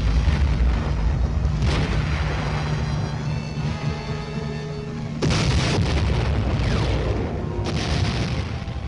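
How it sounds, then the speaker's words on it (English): Armed Choctaw helicopters fire a barrage of rockets during a late-1950s US Army airmobility exercise, heard as a continuous rumbling roar with heavy booms, and a sharp fresh blast about halfway through. "complete the softening up process with a barrage of rockets"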